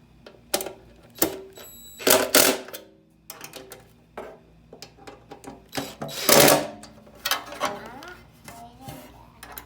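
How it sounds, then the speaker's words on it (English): A number 13 ratcheting end wrench clicks in quick bursts while fastening bolts on a Jeep Wrangler JKU inner fender liner, with sharp metallic taps and rattles close by and scattered between pauses. "I'm using a number 13 ratcheting end wrench"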